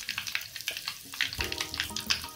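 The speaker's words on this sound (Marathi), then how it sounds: "आपली मोहरी आता छानपैकी तडतडली आहे" Mustard seeds and asafoetida crackle in hot oil for a tempering, quick irregular pops and spits over a soft sizzle, close and moderately quiet.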